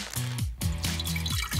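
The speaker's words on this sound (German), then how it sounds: "Zeit, die Behälter mit warmem Wasser zu füllen." Warm water pours and splashes into small plastic toy containers for colour-changing Barbie dolls, a close, continuous trickling with brief breaks between pours.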